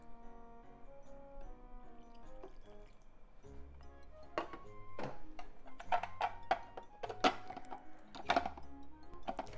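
Milk poured into a kabocha squash flan mixture gives soft drips and a light liquid trickle, with a few clinks, all under steady tonal background music.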